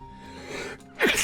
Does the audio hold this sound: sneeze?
yes